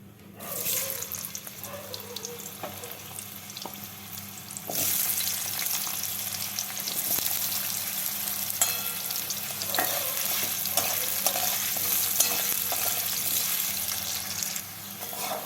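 Potatoes frying in oil after kohlrabi, giving a steady close sizzle that grows louder midway, with stirring scrapes and clinks and no speech.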